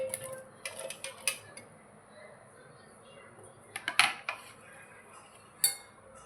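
Soft clinks and light clatters of muskmelon pieces dropping into a mixer jar, scattered taps in small bursts with a couple of brighter knocks, fairly quiet.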